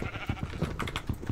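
Sheep bleating inside Minecraft, a few short wavering bleats alongside game sounds at moderate volume, with no speech.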